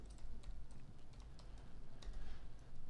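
Fast, steady typing on a computer keyboard while filling in text for a real estate squeeze page, a dense run of soft close keystrokes, quiet and with no speech.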